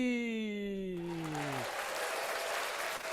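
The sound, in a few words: applause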